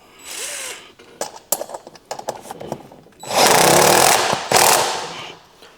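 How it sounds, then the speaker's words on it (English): Assembling a wheelbarrow with a wrench on its bolts: a run of sharp, irregular metallic clicks and knocks, then two loud sustained grinding bursts, close by with no talking. "put this wrench in here and tighten that up"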